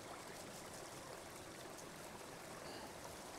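Sluice box moss washed out in stream water, a steady, faint rush and trickle of flowing water with no distinct events and no talk.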